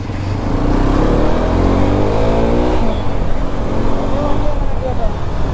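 A Hero Xpulse 210 motorcycle accelerates through Kochi city traffic, its engine note climbing in a steady rising drone, loud and close, with road and wind noise around it.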